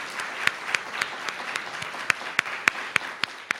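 An audience applauds at the close of a professional development panel on getting reporters onto television, with sharp, scattered claps over a steady wash of clapping throughout.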